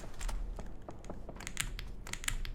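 Rapid typing on a Wooting keyboard, a dense run of sharp, close key clacks and taps with varied rhythm, loud and clear with no talking.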